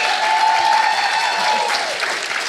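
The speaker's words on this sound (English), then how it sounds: "Let's give them a big round of applause, ladies and gentlemen." Audience at a live podcast recording breaks into a big round of applause, dense sustained clapping from a crowd filling the room, close and loud throughout.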